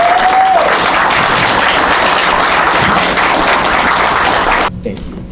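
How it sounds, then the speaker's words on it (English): A warm round of applause from an audience at a Juneteenth celebration in Paterson, New Jersey, dense steady clapping that carries on strongly, then drops off sharply near the end. "Everybody, without further ado, give a warm round of applause for Kevin Powell."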